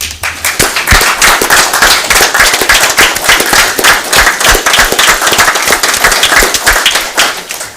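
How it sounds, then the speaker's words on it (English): Loud, close applause from a crowd at a city council meeting honoring city workers, with dense rapid clapping that stays sustained and energetic throughout. "also give them a big round of applause too"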